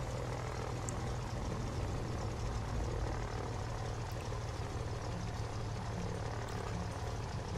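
Simulated aircraft taxiing in Microsoft Flight Simulator, a steady loud engine and propeller drone that holds constant throughout with no pauses.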